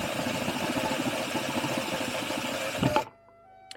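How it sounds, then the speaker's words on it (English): A handheld drill with a 3/16 bit bores out a rivet on a two-stroke exhaust, a close, steady whirring grind for about three seconds that ends with a sharp pop and then near silence. "So you just get a drill, 3/16 drill bit, and it should pop off like that."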